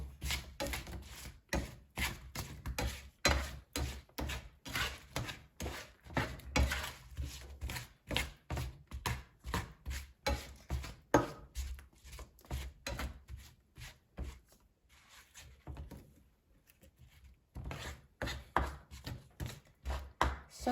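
Rapid, rhythmic rustling and light knocking of seasoned plantain slices being tossed in a bowl or pan, steady bursts with a short pause near the end, no voices.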